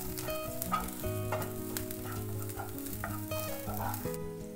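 Tadka spices sizzle and crackle in hot ghee over a high flame for yellow dal, a continuous frying hiss with background music playing over it.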